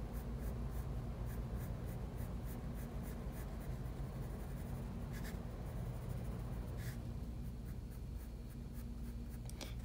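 A pencil draws short curved lines on paper, making soft, close, scratchy strokes that repeat steadily over faint background hum.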